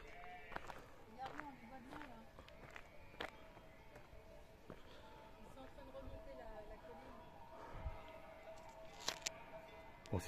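A flock of sheep bleats repeatedly, overlapping calls near and far, with a low outdoor rumble underneath.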